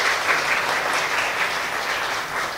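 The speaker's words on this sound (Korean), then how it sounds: "제가 박수 한번 해주시기 바랍니다" A church congregation at a Sunday service in Ho Chi Minh City claps to welcome a visiting member, producing steady, dense applause that carries evenly through the whole stretch with no voices over it.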